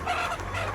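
Farm chickens and ducks fed freshly cut kimbu grass give a close, steady run of low clucking and burbling calls, fairly loud against a constant low hum.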